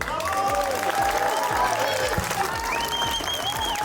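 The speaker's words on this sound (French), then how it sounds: "Je vous demande de vous applaudir." Audience applause at a local celebration event in Penne-d'Agenais, sustained clapping mixed with crowd chatter and a loud, rhythmic musical beat running beneath it.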